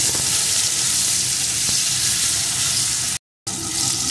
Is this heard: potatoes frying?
yes